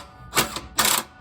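An electric impact gun runs a bolt in during a shock absorber replacement, giving two short, loud bursts of rapid rattling hammering about half a second apart, close up with no talking.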